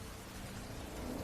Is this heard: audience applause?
no